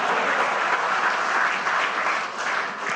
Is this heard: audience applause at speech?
yes